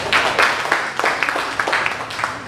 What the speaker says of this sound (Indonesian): Tepuk tangan lagi bagi kita.